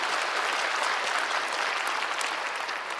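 A church congregation at a Sunday worship service claps together after a sermon parody, producing a bright, dense burst of clapping that stays steady and fills the room for a few seconds.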